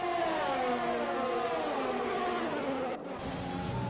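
Racing car engines whine and rev steadily in a close video game race at Bahrain, a loud sustained drone with shifting pitch that holds nearly unbroken for four seconds, with a brief dropout near the end.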